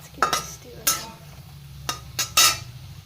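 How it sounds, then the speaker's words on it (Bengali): Homemade sweets go into white cooking oil in a pan, with sharp metallic clinks and scrapes of a utensil against the pot over a quiet low sizzle, several distinct bursts spaced apart, nearby. "এবার এগুলোকে তেলে দিয়ে দিয়েছি সাদা তেল দিয়েছি সাদা তেল একটু ভেজে নেব"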